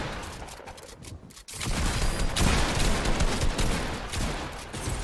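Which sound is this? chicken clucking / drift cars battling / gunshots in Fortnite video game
gunshots in Fortnite video game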